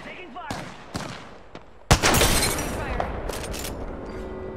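Gunshots coming from behind in a battle-royale shooter game, with a few sharp separate cracks early on, then a loud burst of rapid fire and crashing impacts that fades out, under a speaking voice.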